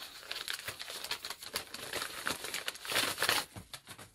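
Padded envelopes being opened, a steady close crackle of plastic and paper crinkling and tearing for a few seconds, fairly quiet.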